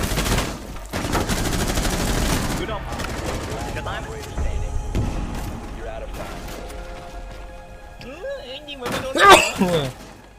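Rapid automatic gunfire shooting through wood in the video game Rainbow Six Siege, dense bursts of shots with splintering impacts early on, then scattered shots and clatter while someone talks excitedly throughout.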